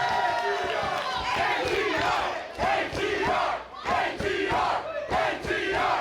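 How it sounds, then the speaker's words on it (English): A wrestling crowd in Worcester roars and chants for the tag team Above the Rest at a Beyond Wrestling show, loud rhythmic group shouts rising and falling in bursts. "You can hear this crowd in Worcester showing their love and appreciation for Above the Rest"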